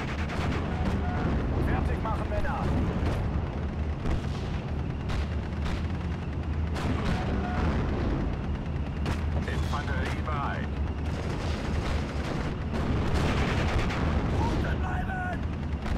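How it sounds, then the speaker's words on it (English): A Nebelwerfer multiple mortar barrage fires in the Steel Division: Normandy 44 war game, with a dense, continuous roar of booming launches and explosions sustained throughout, loud and close. "I love the sound of the Ryanwerfer as it fires its multiple mortar barrage"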